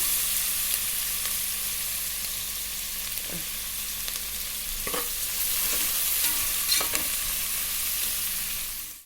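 Ingredients sauté in a hot pan for ghee rice, producing a steady, bright sizzle with a few soft stirring knocks, close and continuous until it cuts off.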